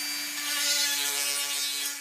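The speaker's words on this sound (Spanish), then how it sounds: "Bien, pues ahora voy a lijar las orillas." The edges of a homemade wooden wind turbine blade are sanded, giving a continuous, close rubbing and whirring with a steady tonal drone and no pauses.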